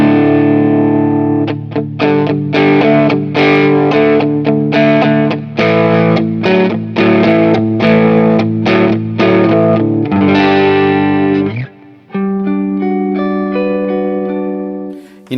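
Electric guitar played hard through a low-gain budget tube amp, a steady run of loud, dug-in strummed chords with slight breakup, ending in a brief pause and a few ringing notes.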